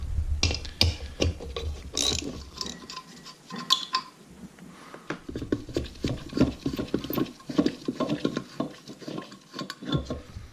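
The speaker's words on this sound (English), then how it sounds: "I'm going to remove the 4 bolts holding the assembly to the wheel" Close ratchet clicks in quick bursts as bolts are backed out of the front brake assembly on a BW 200 wheel, with metallic tool clinks between runs.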